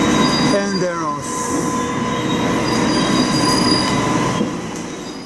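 A train pulls out of a station with loud, close rumbling and sharp high wheel squeals early on, then a steady rolling roar that fades slightly at the end.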